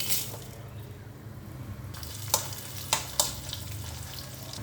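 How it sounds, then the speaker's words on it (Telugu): Mustard seeds, cumin and dry red chillies crackle in hot ghee for a dal and raw mango tempering, a steady close sizzle with a few sharp pops and spatters, no talking. "ఇప్పుడు ఇందులో తాలింపులు వేసేసుకుందామండి. ఆవాలు, జీలకర్ర, ఎండుమిర్చి,"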